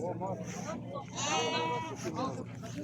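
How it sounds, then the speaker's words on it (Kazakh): Sheep and rams bleat repeatedly at a livestock market, one loud drawn-out bleat in the middle among shorter ones, mixed with nearby talking. "Түрлі қойлар бар"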